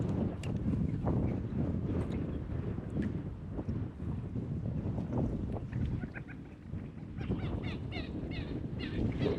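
Gusty wind blows across open water, buffeting the microphone in a steady rumbling roar with a faint bird call near the end and no talk.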